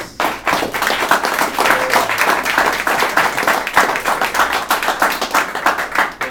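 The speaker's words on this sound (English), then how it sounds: "I just want to maybe give them a round of applause for putting together tonight in this space." Audience at an open house event for a shared space giving a round of applause, dense steady clapping from a roomful of people, close and sustained throughout.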